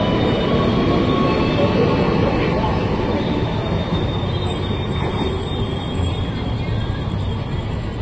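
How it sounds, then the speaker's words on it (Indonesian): A KRL commuter train departs Cawang station in Jakarta loudly, wheels grinding and squealing on the rails with a dense, continuous roar close by, no voices over it. "Komuter tujuan Jakarta Kotanya berangkat lagi."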